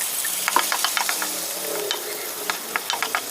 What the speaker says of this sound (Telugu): ఇందులో మసాలా కూడా వేసుకొని బాగా ఫ్రై చేసుకోండి